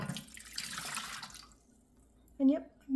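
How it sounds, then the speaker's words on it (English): Warm water, about 160 grams, pours into a bread machine pan for cheesy bread, a broad splashing rush for the first second and a half before fading, followed by brief bursts of speech. "I've got 160 grams of warm water that I'm putting in."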